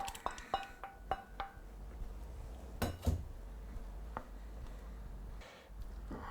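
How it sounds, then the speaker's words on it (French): A spoon scrapes and clinks against a dish while tomato paste is diluted and stirred for a Provençal-style rib dish; light, irregular taps and clicks sound close and fairly quiet, with no talking. "on va, voilà, diluer notre concentré de tomates"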